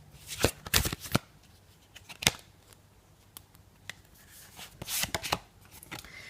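Tarot cards being shuffled by hand in a quiet room, giving a series of crisp riffling and slapping bursts in irregular clusters, close and fairly soft, with no talking.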